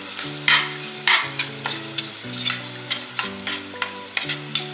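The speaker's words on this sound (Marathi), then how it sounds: "कलरसाठी आपण ही मिरची पावडर घालणार आहोत आणि व्यवस्थित परतून घेऊया." A green paste with turmeric and Kashmiri red chili powder is sautéed in a pot for masoor pulao, with a spoon scraping in quick rhythmic strokes over a soft sizzle, close and clear.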